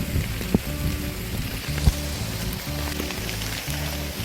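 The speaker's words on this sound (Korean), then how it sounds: "아, 진짜 빗소리 너무 좋다." Continuous rain falls in a dense, even hiss on a Hallasan mountain trail in Jeju, with a few louder drops and a low droning hum running underneath.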